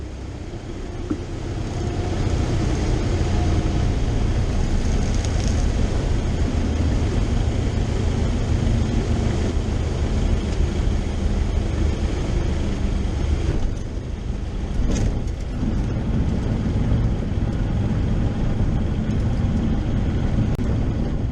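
A small airplane lands after a turbulent flight of over an hour, its engine drone and wind rush continuous and close in the cockpit, with a couple of brief thumps near the end.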